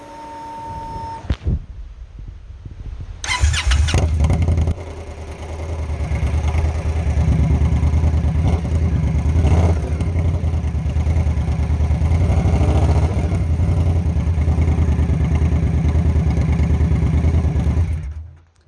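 An engine fitted with a tuned aftermarket exhaust and air filter cranks and fires up after a short quiet pause, then settles into a loud, close, steady rumbling idle that cuts off at the end.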